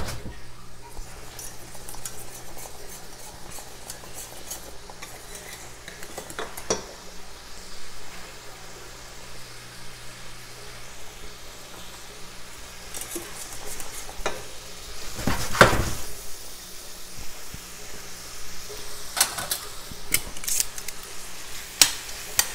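Shrimp with Cajun seasoning cooking in a pan, sizzling steadily at moderate volume, with occasional clinks and scrapes of stirring against the pan.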